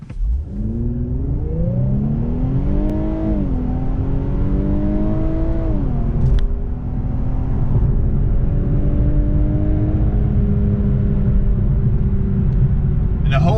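A 2020 Infiniti Q50 AWD with a twin-turbo V6 in Sport Plus mode accelerates hard from inside the cabin, its engine note climbing steadily through held revs with one brief shift dip, loud and continuous throughout.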